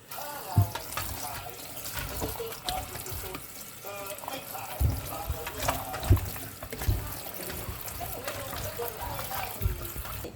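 Tap water runs and splashes steadily into a sink, with occasional clunks and knocks of pork skin being handled and rinsed under the stream.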